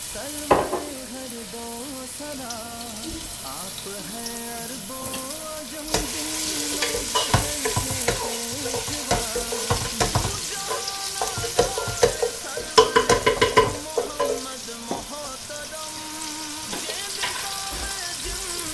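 Onion frying in a little oil for moong dal khichdi, with a loud close sizzle and repeated spatula scrapes and clatters against the pan that grow busier midway, with no speech.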